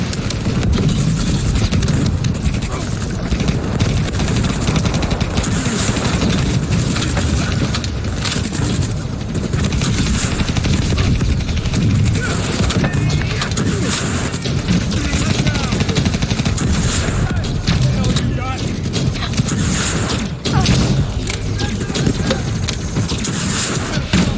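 Constant gunfire and machine-gun bursts rattle loud and close through a Call of Duty Black Ops 3 firefight, dense and unbroken, with shouted voices mixed in.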